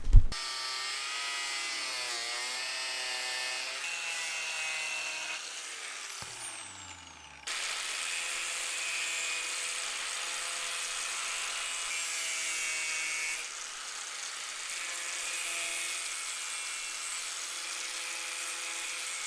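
A cutoff wheel grinds through a car center console on a workbench in one long, steady, high-pitched whine that dips briefly midway and then resumes, close and loud.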